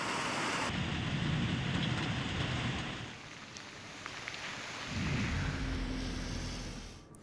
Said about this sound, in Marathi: पहाटेपासूनच जिल्ह्यात सर्वदूर पावसाची संततधार रिपरिप सुरू आहे।